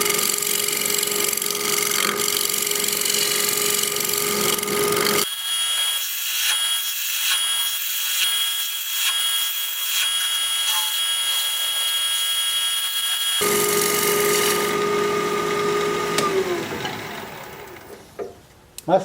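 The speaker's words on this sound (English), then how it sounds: "Do a little shear scraping." A wood lathe spins a wood turning while a tool shear-scrapes its surface, giving a loud continuous whirring hum with rough scraping that thins out midway and then returns.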